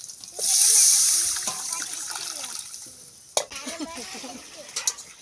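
A sharp burst of sizzling as tempering spices hit hot rasam, then bubbling and stirring clinks, with a faint voice in the background.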